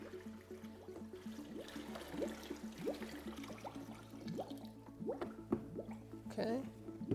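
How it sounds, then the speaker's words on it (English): Sanitizer bubbling and gurgling as it drains down into the freezing cylinder of an Electro Freeze CS-700 soft-serve machine, with irregular drips and liquid glugs under a steady low machine hum. "There's our bubbling that we heard before. Sanitizer going down into the cylinder."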